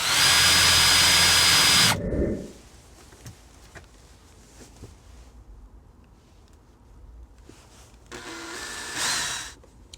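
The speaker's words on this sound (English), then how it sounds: "I'm pre-drilling and then lining up the screws" A power drill whirs loudly for about two seconds while pre-drilling holes in plywood van liner panels, then stops; after a quiet stretch with small knocks, a second shorter burst of drilling follows.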